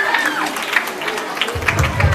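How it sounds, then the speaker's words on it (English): A church congregation in Lagos claps during a children's week service, a brief burst of applause and cheering mixed with crowd voices. "Are you jealous? Clap now."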